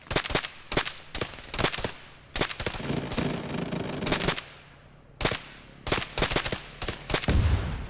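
Gunfire in a simulated firefight: loud, close volleys of rapid shots in repeated bursts, separated by short pauses, with echoing tails.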